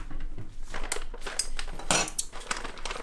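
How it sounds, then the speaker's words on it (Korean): Water and coffee beans go into the tank and hopper of a Gaggia Syncrony Logic commercial super-automatic coffee machine, with close clinks, rattles and light knocks of containers in a quick irregular sequence. "지금처럼 물통에 물을 채우고 원두통에 원두를 채워보겠습니다"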